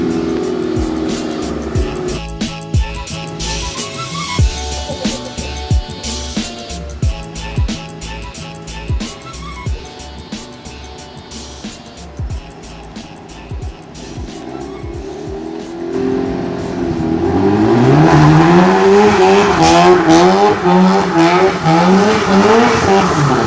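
A Mazda RX-7 on a cruise, its engine running up close with rhythmic pulses before it revs harder and the tires squeal loudly and continuously toward the end.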